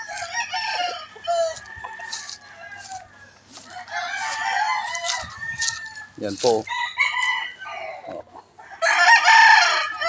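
Chickens cluck and squawk busily with a rooster crowing close by, a farmyard chorus on a farm with a few brief spoken words mixed in.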